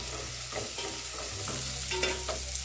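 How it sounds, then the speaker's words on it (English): Onions frying in a pan with curry powder nearby, a steady close sizzle with light stirring scrapes, no talk. "the first step, we are going to cook our onions."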